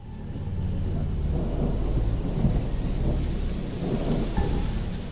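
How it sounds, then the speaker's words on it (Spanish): Thunder rolls low and heavy over steady falling rain, a continuous loud storm wash with rumbling swells and no voices. "Un silencio que solo rompía el rugido de un trueno en la distancia"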